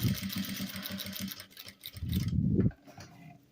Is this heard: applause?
no